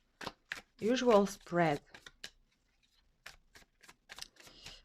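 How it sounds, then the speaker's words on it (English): Tarot cards being shuffled by hand in short riffling bursts at close range, mixed in with a person talking. "I want to shuffle the cards and do our usual"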